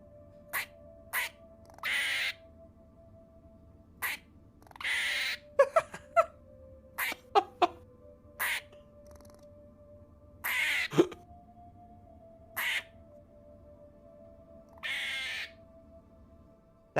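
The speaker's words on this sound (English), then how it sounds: "Judd just linked a squirrel chirping and barking" A squirrel chirps and barks in a played recording, delivering sharp, loud, isolated calls in irregular bursts with short gaps, plus a few quick clustered chirps over a faint steady hum.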